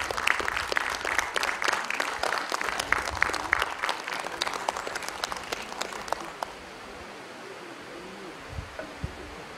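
An audience at a career counselling session applauding, dense clapping for about six seconds that thins out to a few scattered claps and low room noise.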